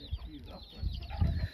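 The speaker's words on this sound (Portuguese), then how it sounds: "deixa eu mostrar essas galinhas" Hens with many young chicks cluck in short, soft bursts around a farmyard, with faint voices underneath.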